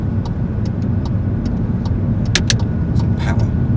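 A car pulls away from a roundabout with steady, close engine and road noise building as it accelerates, and a few brief ticks sit over the drone.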